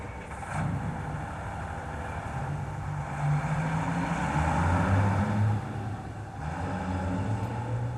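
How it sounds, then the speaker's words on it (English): Engine of a military lorry in a video game rumbles as the lorry drives away, a steady low drone that swells slightly midway and then eases, with no speech. "The lorry has driven off."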